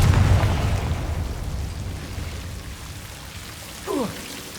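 The Confringo explosive spell goes off in the video game Hogwarts Legacy: a heavy, booming blast at the start that rolls off into a long, rumbling decay, followed by a brief faint chirp near the end.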